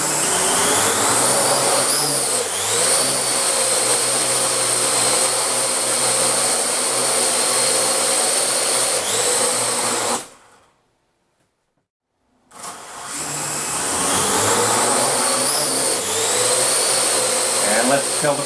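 A Parrot AR Drone's rotors whine loudly and steadily through takeoff and landing, stop for a couple of seconds of near silence, then spin back up to the same high, buzzing drone.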